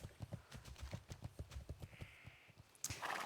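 Horse ridden in a video game: a steady, quick clip-clop of hooves, close and rhythmic, ending in a sudden louder burst of noise.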